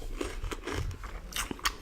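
Crisp bites and chewing of raw celery during a spicy wings meal, several crunchy close-up snaps and mastication sounds packed into under two seconds, with no talk.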